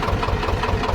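A Swaraj 724 tractor engine idles with a close, steady, low throbbing chug, rhythmic pulses repeating evenly through the short stretch, with no voices.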